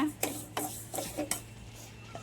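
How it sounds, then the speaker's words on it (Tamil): Semolina (rava) being dry-roasted in a pan for kesari, with a handful of distinct scraping and stirring scrapes against the pan over a low steady background hum, fairly close and quiet. "ரவை வறுத்துறேன் லைட்டாக"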